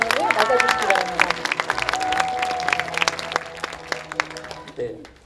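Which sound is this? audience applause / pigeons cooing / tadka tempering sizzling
audience applause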